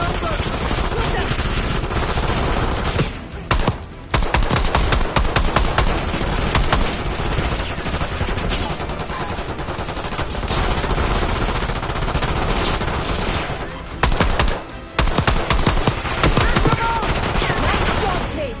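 Sustained heavy gunfire from a Black Ops 6 campaign firefight, dense automatic bursts and rapid shots filling the scene almost without pause, loud and close, with brief lulls and some game voices mixed in.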